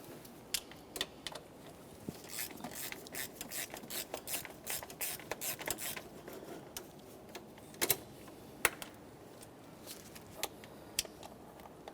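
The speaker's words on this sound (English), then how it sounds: "remove our 3 8mm headed mounting bolts that hold the distributor cap to the distributor itself" A hand ratchet clicks in quick uneven runs while loosening the three 8mm bolts on the distributor cap of a 1994–1997 Honda Accord, with faint ticking, rubbing and small metallic knocks, close but quiet.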